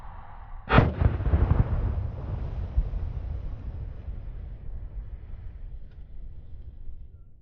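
A single sharp, loud firework mortar blast from an HDPE mortar rack, followed by a long rumbling roar that slowly fades, outdoors with wind noise.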